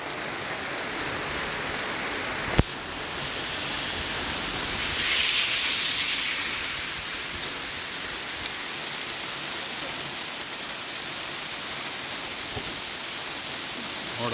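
Heavy monsoon rain falls in Bengaluru as a dense, steady wash of noise on surfaces, with a sharp knock early on and no talking.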